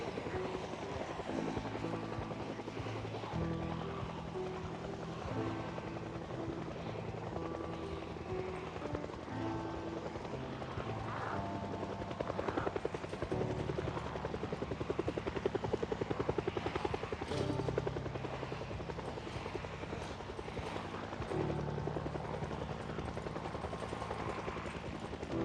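A helicopter in the zombie survival game Project Zomboid drones continuously overhead, its rotor rumble swelling louder midway and then easing, layered over a dense steady background with no talking.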